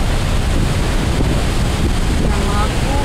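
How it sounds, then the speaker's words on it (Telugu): Water rushing from the 26 open gates of Nagarjuna Sagar Dam, a loud, continuous roar of heavy flow mixed with wind buffeting the microphone, steady with no talk. "సో ఇదంతా వాటర్ 26 గేట్స్ అనేది ఓపెన్ చేశారు."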